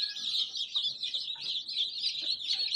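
Newly hatched chicks crowd together, peeping continuously in a shrill, high-pitched chorus at steady, moderate loudness, with a few soft thumps underneath.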